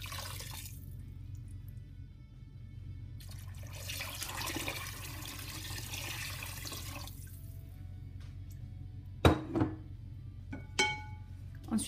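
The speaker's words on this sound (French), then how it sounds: "Et je viens arroser le tout avec à peu près 2 litres d'eau." Roughly 2 litres of water pours over couscous ingredients with lamb and vegetables in a pot, a steady close splashing stream that lasts several seconds, followed by a few knocks and clinks.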